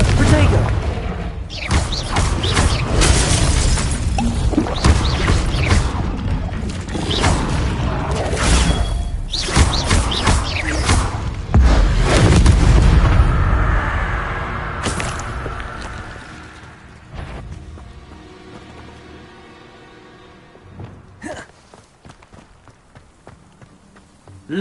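Spell blasts and fiery explosions from Hogwarts Legacy gameplay on PS5, a dense run of loud booming hits and crackling bursts, tapering into scattered quieter impacts near the end.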